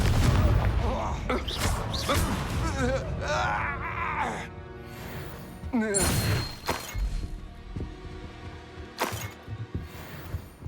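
Confringo blasting curses from Hogwarts Legacy land as heavy crashing explosions with thuds and shattering debris amid combat, scattered impacts across the span, with voices grunting and talking between blasts.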